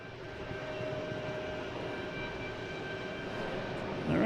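An Airbus A321neo jet on Seattle-bound flight 324 produces a steady, fairly faint engine roar heard from a distance. The sound swells slightly louder near the end.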